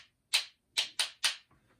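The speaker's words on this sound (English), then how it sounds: "And also a lot of times we click the sticks together." Wooden drumsticks clicked together four times, sharp bright clacks close by, one hit then a quick run of three, followed by a faint trailing tap.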